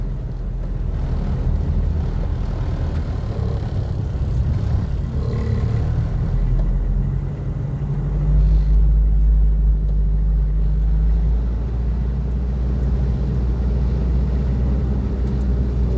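A car idles and creeps through congested city traffic, a low continuous engine rumble with a heavier surge midway, steady and close without talk.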